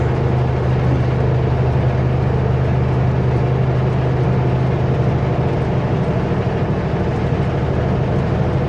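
A truck hauling empty trailers climbs a hill, its heavy engine a loud, steady low drone heard from inside the cab, with constant road and wind rumble throughout.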